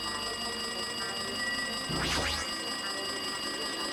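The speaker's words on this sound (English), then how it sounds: "It looks like the phone is ringing." A landline-style telephone rings in the video game Danganronpa 2: Goodbye Despair, a short burst of warbling tones over a steady hum of background game music, with no talking.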